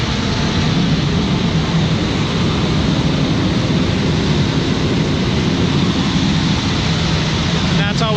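A fire truck pump engine on a tower ladder truck roars steadily and loudly as it is throttled up to 125 PSI, a dense, unbroken mechanical drone with no pauses.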